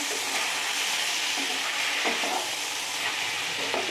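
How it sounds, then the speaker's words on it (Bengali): Tomato with five-spice seeds sizzles loudly in mustard oil, a dense, continuous frying hiss close by, broken by a few soft stirring knocks. "দিয়ে এগুলো একটু ভাজা ভাজা করে নিয়ে আর টমেটোটা দিয়ে দেবো,"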